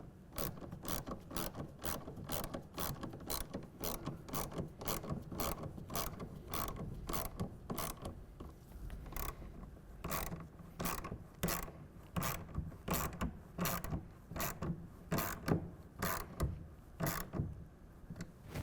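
Ratchet clicking steadily as it tightens the clamp bolts of a Gator EFX hard folding tonneau cover on a 2024 Ford F-150 to 10 foot-pounds, with rapid, evenly spaced clicks repeating close up throughout, alone with no talk.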